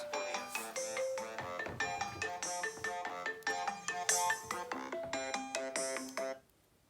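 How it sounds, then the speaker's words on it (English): A phone ringtone for an incoming call plays a bright, bouncy electronic melody of quick repeated notes for about six seconds, loud and close, then cuts off abruptly into quiet. "I got an incoming call and the video didn't resume after I'd dismissed the call."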